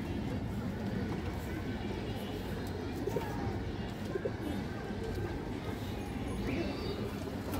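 A pair of khoragola pigeons coo softly amid a dense, steady background of other birds and murmuring voices, with someone talking over it.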